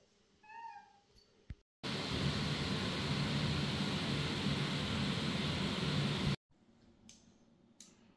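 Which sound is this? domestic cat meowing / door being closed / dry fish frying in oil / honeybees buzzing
domestic cat meowing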